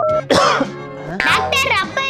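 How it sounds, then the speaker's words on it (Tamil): A man coughs in a Tamil comedy skit, with a few harsh, throaty bursts mixed with voiced, strained sounds, loud and close. "அப்பா இப்படி இரும்புறாரு."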